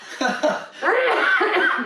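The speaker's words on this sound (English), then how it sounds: "that's gonna make me cough" A few short, harsh coughs from one person up close, followed by a longer raspy burst that trails off into breathy throat noise.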